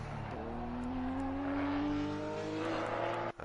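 A race car engine drones steadily on a track in the racing game Assetto Corsa Competizione, a sustained mid-level tone that slowly rises in pitch, heard alone without talk.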